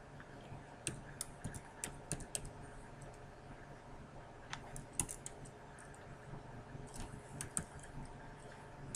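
Steady computer keyboard typing while dummy student data is entered into an online course application form, with irregular clusters of sharp key clicks and brief pauses at close range, no voices.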